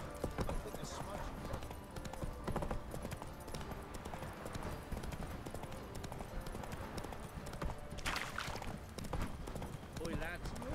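Hooves of Roach, the horse in The Witcher 3, trot in a steady clip-clop rhythm beneath overlapping in-game voices and ambient noise, fairly quiet overall.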